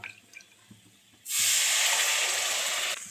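Ginger-garlic paste water hits hot oil with ground coriander and cumin and bursts into a loud, steady sizzle that holds for about two seconds and then cuts off, after a short quiet start.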